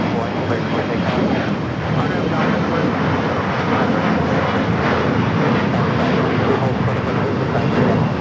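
A fixed-wing airliner takes off from runway 25 right at LAX, its engines producing a loud, steady, broadband roar throughout, with talk over it.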